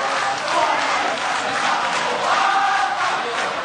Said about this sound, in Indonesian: kita beri tepuk tangan untuk 2 pasang calon kita